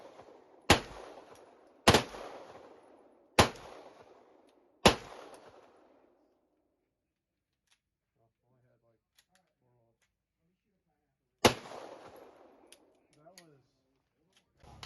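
French P1 and Walther P38 pistols fire five sharp, loud reports in cold weather, four in quick succession, each ringing briefly, then a long near-silent gap before a fifth shot and faint handling noises.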